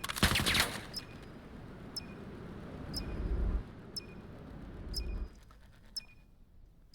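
Gunfire in a competitive 5v5 shooter game, with single sharp shots spaced about a second apart over a low rumble of movement and a louder burst at the start, fairly quiet overall, with no talking.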